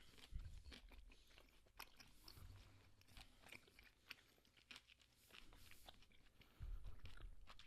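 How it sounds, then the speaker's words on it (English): Crunchy Snickle snack being bitten and chewed up close, with repeated crisp crunches and wet mouth sounds, a low voice murmuring briefly in between. "if you don't like mouth noises and chewing and stuff, you probably hate this."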